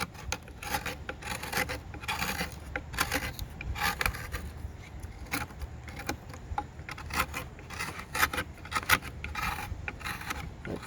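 A knife is rolled and scraped across the surface of a carved pumpkin, giving a steady, close, rasping scrape with small clicks and knocks, with no talking.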